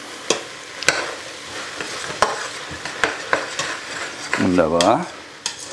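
Sugar is stirred into onions and tomato paste frying in a pot for beef goulash: a spoon scrapes and knocks in repeated strokes over a low sizzle, with a brief spoken word near the end.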